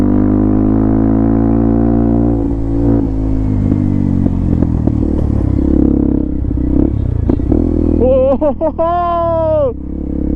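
A motorcycle runs along a mountain road in Ladakh with a steady engine drone, clattering and scraping road noise, and a voice talking over it; a rising horn-like tone sounds near the end.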